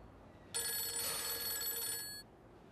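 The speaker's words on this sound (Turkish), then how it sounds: "Aç, telefonun çalıyor." A mobile phone rings in a quiet room, a bright electronic ringtone starting abruptly and sounding continuously for well over a second before cutting off, fairly loud and close with no one speaking.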